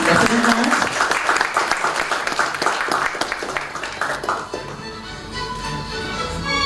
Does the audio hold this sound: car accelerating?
no